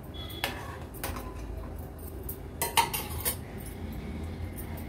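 A spoon stirring sabudana and vermicelli kheer with saffron in a pot, a few scattered metallic clinks and scrapes against the pot, close and fairly quiet, with no talk.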